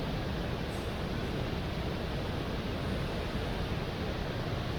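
Steady, broadband roar of water pouring down Palaruvi falls at Courtrallam, a constant rushing wash with no voices.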